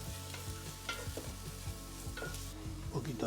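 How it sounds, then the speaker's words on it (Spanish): Onion cooks slowly in sunflower oil with a soft, close sizzle, broken by light scraping and stirring taps against the pan. "Le voy a poner también un poquito de aceite de girasol y que vaya pochando la cebolla poquito a poco."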